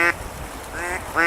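Ducks quack in short raspy bursts on a duck hunt in a winter storm in southwest Montana, three calls spaced apart and fairly close over a steady rush of wind.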